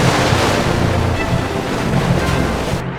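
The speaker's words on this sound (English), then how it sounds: "Wave washing." Ocean waves washing in a continuous, loud rush of surf, with wind buffeting the microphone and a low rumble underneath, steady for the whole stretch with no voices.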